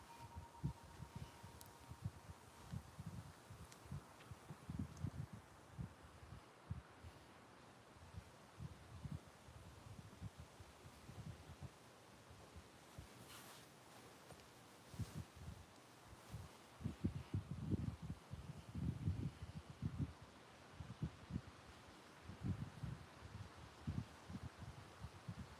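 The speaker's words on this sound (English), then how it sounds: "It's a windy night." Low, gusty wind buffets the microphone in uneven rumbling surges, with faint rustling throughout and stronger gusts toward the end.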